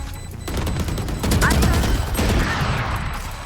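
A Valorant spike detonates in the video game, producing a loud, sustained explosive roar with crackling bursts that fills the whole moment, while a voice is heard over it.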